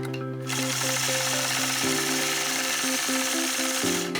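Sewing machine machine-quilting a border on an improv flying geese quilt, a steady continuous motor hum and needle rattle running throughout with slight changes in pitch as the stitching speed shifts.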